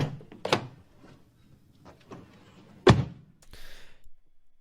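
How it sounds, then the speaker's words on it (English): A car door closes in a single solid thunk with a short rattle before it, with faint handling noises around it, used as an organic foley layer in an EDM track. "And then like a car door."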